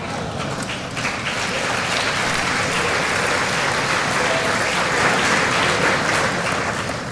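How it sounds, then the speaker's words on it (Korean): A large assembled audience applauding in a somewhat ragged, uneven way that gradually settles into a fuller, steadier clapping, loud and continuous throughout. "처음에 다소 어색한 듯 박수가 시작되다가 네. 나중에는 대충 이렇게 맞춰서 박수가 끝났는데"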